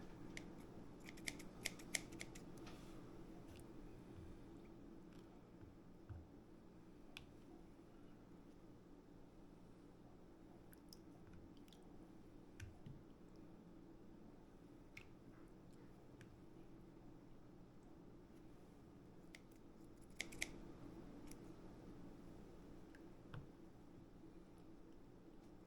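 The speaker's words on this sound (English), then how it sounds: "And my trusty scissors for cutting them." Kitchen scissors snipping raw chicken livers, a series of faint, sharp clicks and snips scattered over a low steady background hum, clustered near the start and again later.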